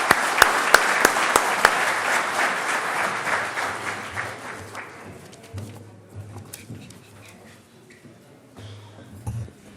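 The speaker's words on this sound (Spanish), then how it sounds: "Démosle, por favor, un fuerte aplauso de bienvenida." A welcome round of applause from an audience at a talk on maize in Mexico. Loud clapping with sharp individual claps at first, then it thins and fades after a few seconds into a quiet room with faint rustling.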